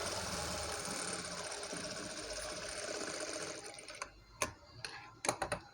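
Sewing machine stitching designer cloth for a child's blouse, a steady close whirring run of rapid stitches that stops after about four seconds, followed by a few sharp clicks and taps.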